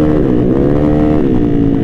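A Honda Beat scooter engine revs steadily and loudly at close range, its pitch holding high with a slight dip, alone without talk.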